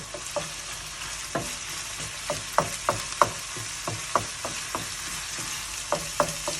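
Chicken for Thai holy-basil pad kra pao stir-frying in hot oil, with a bright crackling sizzle and a quick, irregular series of metal spatula strikes and scrapes against the pan, close up and with no voices.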